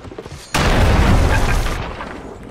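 A cannon shot in the pirate video game Sea of Thieves strikes a ship with a sudden loud boom, then a roaring crash that rumbles on for about a second before fading.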